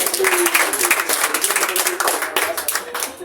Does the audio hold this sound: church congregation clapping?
yes